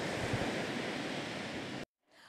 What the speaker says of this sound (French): le littoral érodé continue de subir l'assaut des vagues de l'océan Atlantique